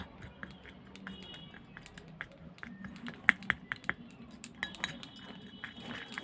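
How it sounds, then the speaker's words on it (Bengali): A spoon working flour into yogurt in a bowl, giving light clinks and scraping taps that grow busier toward the end, close and fairly quiet. "আটাটাকে আমি ভালোভাবে এর সাথে মিশিয়ে নিলাম"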